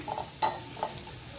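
Onion sautéing in a pan toward golden brown, a soft sizzle broken by a few light stirring scrapes, fairly quiet and close.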